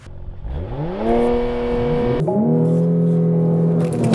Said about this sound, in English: I just love how simple it is to do a launch control start in a Porsche.